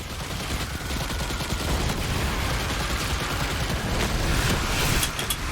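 Rapid, continuous gunfire from the Destiny 2 video game during a solo Warlock Solar explosive-build fight, a dense, steady barrage with sharp bursts and a louder flurry of shots near the end.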